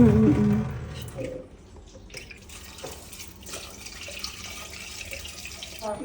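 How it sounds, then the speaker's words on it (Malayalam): Water pours steadily into a cooking pot, a loud splashing rush at first that settles into a continuous, softer trickling flow for several seconds. "വെള്ളം ഒഴിച്ച് ഇച്ചിരി ഉപ്പും മഞ്ഞളും ഒക്കെ ഇട്ട് നമുക്ക് വേവിക്കാം"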